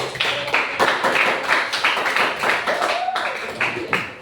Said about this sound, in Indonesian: Ya bagus, beri aplaus untuk kelompok 4.